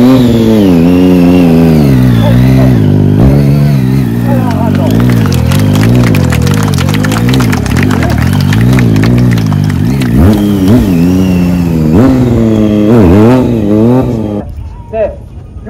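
A large motorcycle weighing just under 200 kg revs at a 2023 stunt show at Ibaraki Airport. The loud, close engine rises and falls in repeated throttle blips and sustained revs during a slow full-lock turn, then cuts off at the end.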